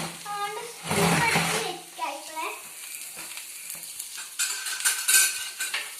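Mussels fry in oil in a pan and are flipped over, with a close sizzle and scraping stirs and utensil clatter while a person talks over the cooking.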